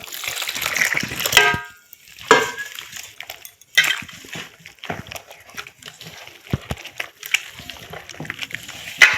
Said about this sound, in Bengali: এখন এখানে আমি দিয়ে দেব জল